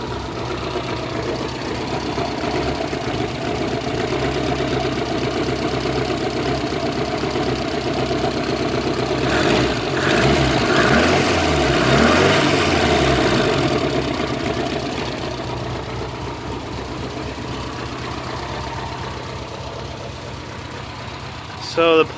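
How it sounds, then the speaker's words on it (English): A Datsun 1200 ute's carbureted engine idles steadily at about 900 RPM, a close, even mechanical rumble with a slight knocking tick, running continuously beneath a voice talking. "so it seems to be idling pretty good"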